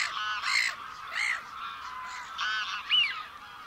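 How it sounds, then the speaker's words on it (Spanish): Greylag geese honking in a series of loud, nasal calls, several overlapping honks spaced about half a second to a second apart, close by with no other sounds. "los ánsares comunes ganguean, gan, gan, gan"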